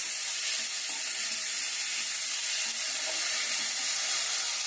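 Mint leaves and other chutney ingredients frying in a pan, a steady dense sizzle throughout with no voices.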